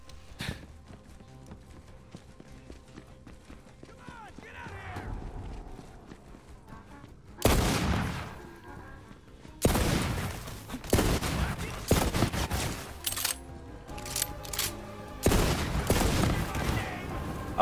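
Pistol gunfire in the video game Borderlands 3, sharp loud bursts of shots in several clusters over game ambience, with a quieter stretch before the firing starts.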